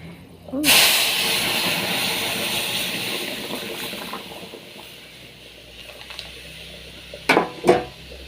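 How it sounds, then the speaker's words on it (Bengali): Whole spices hit hot oil to temper cooked dal (lentils) in a home kitchen, setting off a loud sudden sizzle that settles into a steady hissing crackle, with a couple of sharp clinks near the end. "ডালটা এখন আমি সম্বারা দেব"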